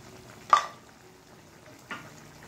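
Spices, ground cumin paste and coriander powder, being stirred in a hot pan for a hilsa fish curry with potato and stems: two separate scraping stirs over a soft steady sizzle, the first louder, no talking.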